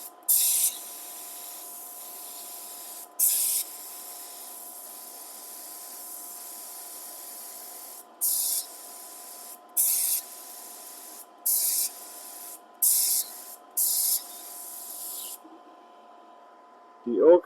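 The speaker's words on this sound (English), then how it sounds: "I'm going to spray the leftover out of the gloss that I still have in the gun." A spray gun emptying leftover gloss clear coat in the workshop while finishing oak wood, loud hissing bursts of spray in repeated short pulses over a steady background hum.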